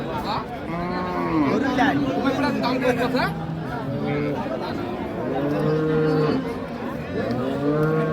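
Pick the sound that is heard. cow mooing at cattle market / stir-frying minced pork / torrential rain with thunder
cow mooing at cattle market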